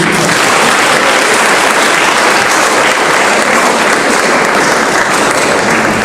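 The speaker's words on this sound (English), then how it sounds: "can we have a big clap" Loud, dense applause from a large audience at a college of veterinary medicine awards ceremony, a continuous roar of clapping that holds steady from start to finish.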